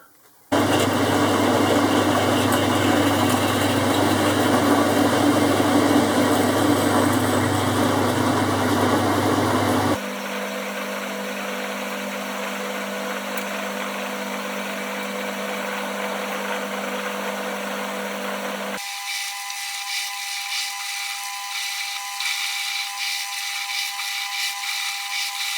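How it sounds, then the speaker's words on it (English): A machine drills a hole straight through the centre of a part, giving a steady mechanical whir that shifts character twice as the cut progresses, continuous and fairly loud with no talking. "the next job is to drill a hole through straight through the centre"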